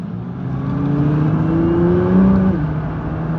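Nissan GT-R engine revving while driving, a steady close drone with rising pitch that climbs over about two and a half seconds, then drops sharply as the gear shifts, with no talking.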